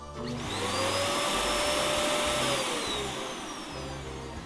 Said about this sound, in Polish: Odkurzacz.